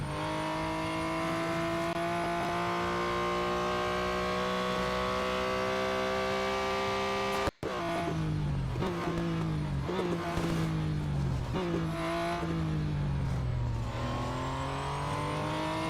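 A race car engine roars steadily through a lap in the mobile racing game Real Racing 3. It holds a loud, continuous drone, then falls into repeated rev-and-shift swoops after a brief cutout midway, with someone talking over it.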